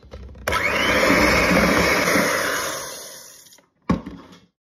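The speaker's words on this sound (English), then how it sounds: "I'm going to whisk this together for a bit before I add in the" An electric hand mixer whisks coconut oil and sugar in a bowl, a steady loud whir for about three seconds that fades as it slows, followed by a short second burst.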